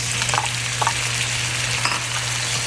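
Tomatoes go into a hot pan of garlic and onion for a tausi fish dish, a loud continuous close sizzle and crackle with a few stirring scrapes, no talk.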